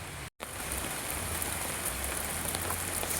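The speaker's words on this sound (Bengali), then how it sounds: "দেখো বৃষ্টি পড়া শুরু হয়ে গেছে" Rain falls steadily near a temple in the hills at Mirik, a dense even hiss of drops on surfaces, close and continuous apart from a brief cut near the start, with no voices.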